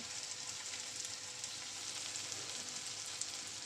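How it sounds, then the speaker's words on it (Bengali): Onion, green beans and chillies frying in a pan for vegetable pasta, a quiet, even sizzle with light crackles throughout. "কাঁচা পেঁয়াজ এবং কিছু বরবটি এবং লঙ্কা দিয়ে সেটাকে কিন্তু জাস্ট ফ্রাই করে নিচ্ছি।"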